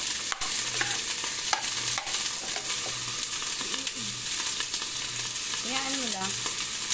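Food sautéing and frying in butter in a pan, a steady continuous sizzle with occasional stirring clatter throughout, close and moderately loud with no talking.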